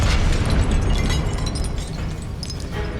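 A Confringo blasting spell explodes in the Hogwarts Legacy video game, a loud, close, roaring burst of noise that crackles and slowly fades over a few seconds.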